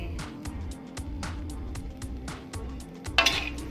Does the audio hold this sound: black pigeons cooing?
no